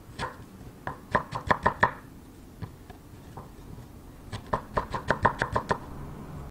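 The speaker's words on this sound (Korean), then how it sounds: "그리고 또 일정하게 채를 썰어줍니다" A knife cuts pear into even julienne strips on a cutting board. Two quick bursts of rapid, crisp chopping taps are close and clear, separated by a short pause with a few scattered taps.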